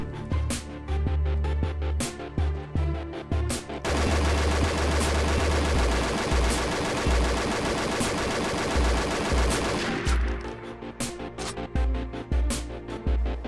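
M417 rifle fire in the shooter game Combat Arms: sharp single shots, then a long sustained automatic burst lasting several seconds, then more spaced single shots, loud and close with no talking.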